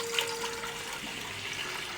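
Water pours steadily from a glass into an open cooking pot for chicken biryani, a continuous splashing gush, close and even, with no talking.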